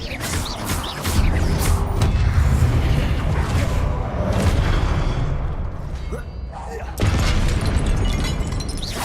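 Confringo fire-spell explosions in the Hogwarts Legacy video game produce loud, rumbling blasts around the start and again near the end over dense game noise, with a voice talking throughout.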